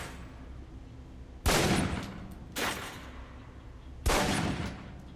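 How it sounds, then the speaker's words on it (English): Three pistol shots fired at a target in the video game Alpha Protocol ring out in an uneven rhythm, each a sharp, loud crack followed by a short decaying tail, over a quiet background. "Equip the pistol, then aim down range and take some shots at the target."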